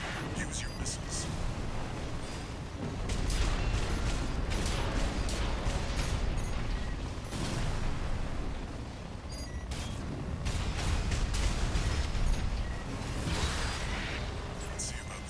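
Missile fire and explosions in Armored Core 6 roar almost continuously, with dense bursts, whooshes and mechanical clatter swelling and easing in waves.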